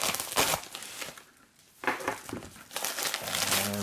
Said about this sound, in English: Just get my knife and I'm gonna cut the side of the package here.